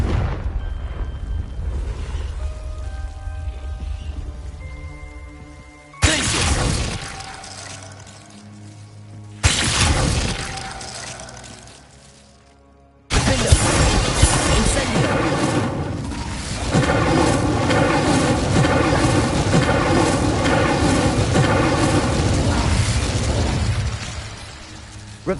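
Confringo spell cast in a Harry Potter video game, giving sudden loud fiery blasts and bursts that cut in abruptly, followed by a long sustained roaring rumble layered with dense game sound effects.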